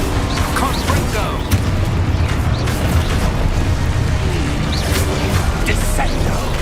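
A Confringo explosive spell from Hogwarts Legacy sets off a loud, continuous barrage of fiery booms and crackling blasts, with deep rumbling throughout and no pauses.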